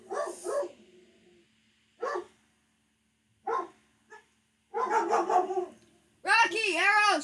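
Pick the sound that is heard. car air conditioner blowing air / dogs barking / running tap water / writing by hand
dogs barking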